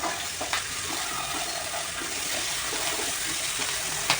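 Peas frying in oil in a frying pan, a steady broadband sizzle running throughout with a few brief clinks of a spoon stirring, close and moderately loud, no voices.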